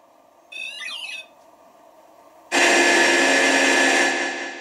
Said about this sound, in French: Déclenche le pod, la petite musique que j'ai fait là à l'instant.